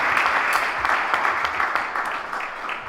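Audience applause at an indie music talk in Granada, Spain: a dense, steady wash of many hands clapping close up, sustained through the whole stretch with no voices over it.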